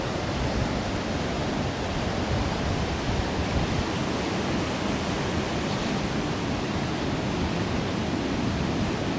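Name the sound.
rough, choppy sea waves close to the beach at Hemsby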